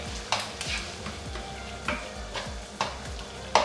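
A spatula stirs ground beef and chopped vegetables in a hot pan, giving soft scraping strokes and a few sharper knocks over a low sizzle.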